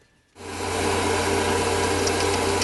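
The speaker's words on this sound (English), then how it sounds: "I'm going to drill an undecided size but small hole up it" A drill motor starts up and runs steadily at close range, a constant whirring hum with a faint high whine as it bores a small hole, about 1.5mm, into a metal Webster engine part.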